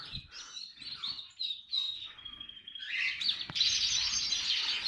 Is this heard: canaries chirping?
yes